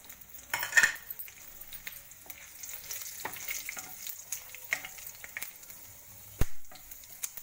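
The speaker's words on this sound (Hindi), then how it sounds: "अब हम इसमें ये छोंक का सामान डाल देते हैं।" Cumin, green chillies, fenugreek seeds and asafoetida sizzle in hot oil for a baingan bharta tempering, a soft crackling fry with a few sharp pops and spoon clinks close by, no voices.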